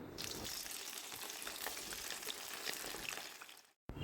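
Pointed gourd sizzling steadily in hot mustard oil in a kadai on a gas stove, a dense continuous fry that runs close and even for nearly four seconds, then cuts out abruptly to a brief gap before resuming.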